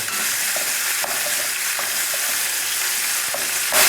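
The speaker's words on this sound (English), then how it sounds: "we're gonna put the onions in to cook now" Onions frying in oil for a Tuscan vinegar chicken give a dense, continuous sizzle, with faint taps of a utensil breaking them up throughout.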